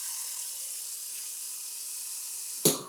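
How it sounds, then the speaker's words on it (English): Tap water pours steadily into a pan while making banana peel fertilizer, a constant close splashing hiss that ends with a brief clunk near the end. "So now we want to fill our pan with water."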